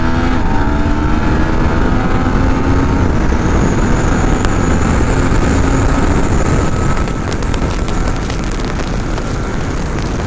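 Yamaha MT-09 (2019) motorcycle accelerating hard from 100 to 200 km/h on an unrestricted highway, a loud continuous engine roar with rising tones under heavy wind rush, no talk.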